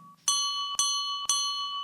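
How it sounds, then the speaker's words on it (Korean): A bell struck three times in even succession, each stroke a bright ringing tone that sustains until the next, marking the start of a candidate's timed speech at a joint campaign rally; a brief steady tone precedes the strikes. "우리 후보자께서 연설을 시작하시면 그와 동시에 시작 타종이 울릴 거고요"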